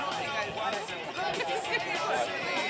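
A crowd at a BMX race chatters in a steady murmur, with a commentator talking over the babble.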